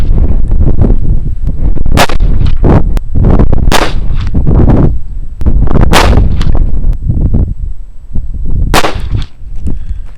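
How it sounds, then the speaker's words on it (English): Five rounds of 185 grain Barnes XPD ammunition fired from a handgun at a bench, heard as loud close gunshots spaced a couple of seconds apart, each ending in a booming echo, with no talking. "185 grain bullet. Fired from the same pistol."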